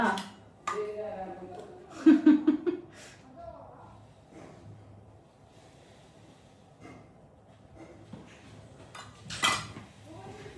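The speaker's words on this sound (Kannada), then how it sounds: "ಪಾತ್ರೆ ಯಾಕೆ ತೊಳೆದಿದ್ದೀರಾ?" Pots, plates and cutlery clattering during dishwashing at home in a few scattered bursts, with a louder clatter early on and quieter knocks later, mixed with voices and breathing.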